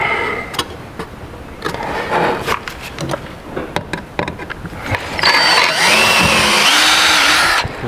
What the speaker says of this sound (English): let's get this rivet in